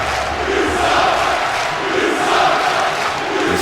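A virtual arena crowd in a WWE 2K wrestling match roars and cheers continuously, a dense steady wash of voices swelling slightly in waves without commentary over it.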